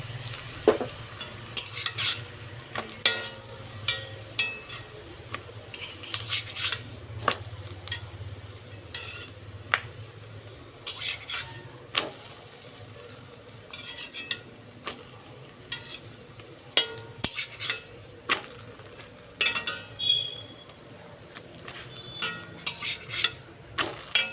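Ghee is spread lightly over a fenugreek-leaf paratha frying in a pan, with a soft low sizzle beneath frequent sharp clicks and taps of a spoon against the pan.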